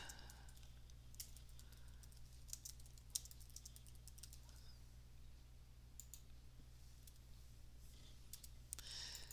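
Quiet computer keyboard typing, scattered keystroke clicks in irregular bursts over a low steady hum, no talking.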